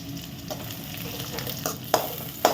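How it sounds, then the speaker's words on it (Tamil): Onions with fennel seeds sautéing in a pan hiss steadily while a spoon stirs, with several sharp scraping knocks against the pan near the end and no talk. "இதை போட்டு உடனே ஆனியன் நல்லா வதங்கட்டும்."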